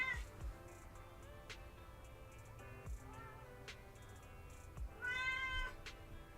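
A cat meows indoors in a few short, nearby calls spread across the moment, the last one longest and most tonal, with faint background noises and no voices.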